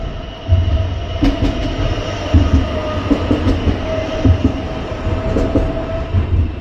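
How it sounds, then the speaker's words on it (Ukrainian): A tram rolls past on a city street, its steady low rumble and rail clatter filling the scene with repeated clicks and thumps from the wheels, close and continuous. "Тут і трамвайчик їде."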